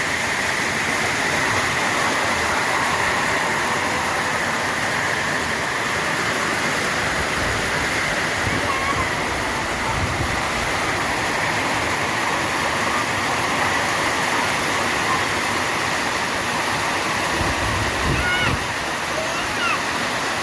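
Heavy rain pours down over a farm field as a dense, constant hiss that stays loud and unbroken throughout, with faint low murmurs that may be voices beneath it.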